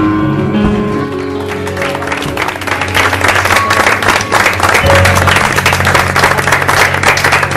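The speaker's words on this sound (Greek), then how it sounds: "Παιδιά, χειροκρότημα στην Μισήνη μας" An audience gives a singer loud, sustained applause, a dense crackle of clapping that swells midway, with some low tonal sound underneath.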